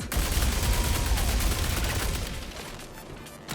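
A Fresnel Volt LMG in Star Citizen fires one dense, rapid burst for about two and a half seconds, loud and close, then trails off into fading echo.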